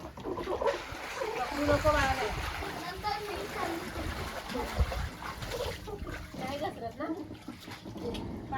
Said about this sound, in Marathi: पाणी मारा पाणी त्याच्यावरती